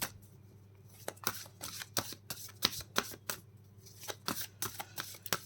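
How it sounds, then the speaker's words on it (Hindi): Tarot cards shuffled by hand in a quick series of crisp riffling bursts and soft slaps, close and fairly quiet, with no talking. "कार्ड आपके सामने शफल कर रही हूँ"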